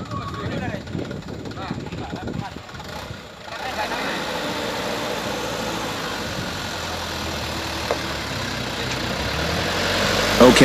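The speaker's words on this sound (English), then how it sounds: "Next, the truck will pass this incline." A heavily loaded truck labors up an incline on a damaged road, its engine giving a steady, loud drone that swells slightly toward the end, with someone talking over it.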